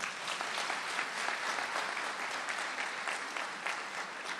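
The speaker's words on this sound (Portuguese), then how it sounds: "Uma salva de palmas para ele." Church prayer-group audience applauding a priest, steady dense clapping from many hands, fairly soft and even throughout with no voices over it.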